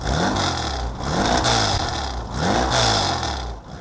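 A 1973 Porsche 914-4's air-cooled engine hums steadily while cruising in fifth gear, a low, throaty drone behind the seats that swells and eases in gentle waves, close by and loud.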